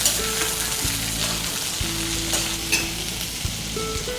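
Vegetables sauté in a pan over ginger and garlic for a Pongal dish, giving a steady close sizzle with scraping stir strokes and occasional clinks, with no talking.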